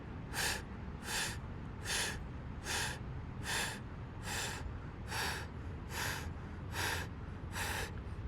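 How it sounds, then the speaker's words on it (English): Rapid, rhythmic yoga breath-of-fire breathing: about eleven sharp, forceful nasal exhales at a steady pulse, close and fairly quiet, with no talking. "breath of fire"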